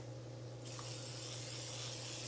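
A kitchen oil mister sprays cooking oil in one sudden, continuous hiss that starts abruptly and holds steady for nearly two seconds, heard close up over a low background hum.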